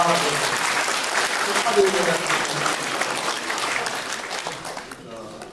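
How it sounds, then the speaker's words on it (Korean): Audience applause at a talk concert in Gwangju, a steady sustained clapping that fills the clip, with brief spoken acknowledgments over it before it fades slightly at the end. "다시 한번 두 분에게 박수 한번 주십시오."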